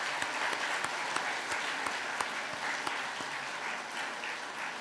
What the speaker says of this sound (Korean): 우리 모두 함께 수고하셨다고 우리 격려의 박수 한번 보내드릴까요?